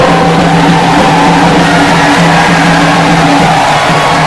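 A large crowd at a BSP political rally in Lucknow roars continuously and loudly, a dense wall of cheering and shouting with clapping blended in, welcoming Mayawati.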